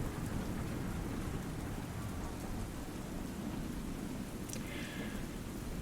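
Steady rain falls heavily and evenly throughout, with a low rumble of thunder underneath and a brief brighter crackle near the end; no voices are heard.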